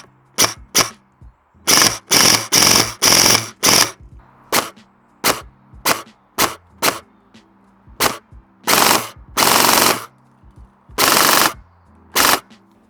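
Novritsch SSR90 airsoft gun firing full auto, sharp rapid bursts of mechanical clatter in short and longer strings separated by silent pauses, close and loud.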